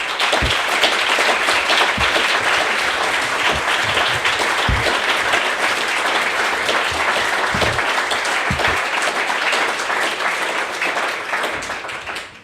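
Loud, dense applause fills the room for the speakers at a 2019 bursaries event, a continuous wash of clapping that tapers off only in the final moment.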